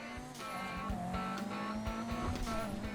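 A car drives in GTA Online, its engine holding a steady, close, loud drone with slight pitch wavering and repeated tire thumps, heard alone without any talking.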